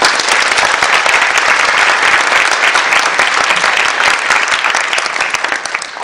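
A university lecture hall audience of students gives steady, enthusiastic applause at a unification talk concert, with dense clapping sustained for several seconds before easing slightly at the end.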